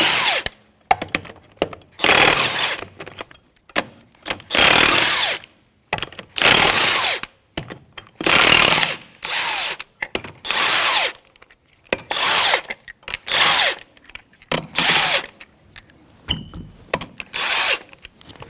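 A power tool with a 19mm socket runs lug nuts off the rear wheel of a Jeep Patriot, giving a dozen or so loud, close whirring bursts separated by brief pauses.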